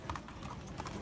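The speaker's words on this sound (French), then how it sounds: "On entend du cheval" Horses' hooves clopping at a French racecourse, a quick muffled rhythm of beats heard at middle distance through a dense wash of crowd noise.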